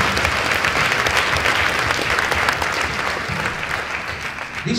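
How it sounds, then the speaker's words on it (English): Steady, dense applause from a large conference audience, loud and continuous throughout with no pauses, easing only slightly toward the end. "Let's give them all a big round of applause."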